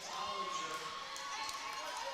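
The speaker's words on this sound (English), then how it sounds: "Crowd is loud here in the Cimpl Arena." A loud, steady roar from an arena crowd at a college volleyball match in the Cimpl Arena, continuous and close with a commentator talking over it.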